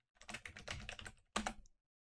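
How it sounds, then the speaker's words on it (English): Rapid typing on a computer keyboard while a password is entered during a software install on Ubuntu 18.04: a quick burst of close keystrokes, a brief pause, then a second short burst, with no talking. "and then enter in your password."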